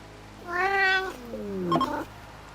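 A cat meowing twice, close and clear: a long rising-then-falling meow followed by a second, drawn-out descending meow, with no talk over it.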